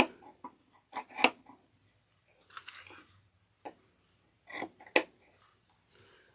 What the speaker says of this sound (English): I'm just going to go cut across where the ledge is